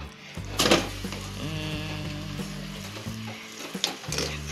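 Butter sizzles in a thick, heavy pan while requeijão is being made, with a steady close frying hiss, occasional stirring scrapes and a few utensil knocks against the pan.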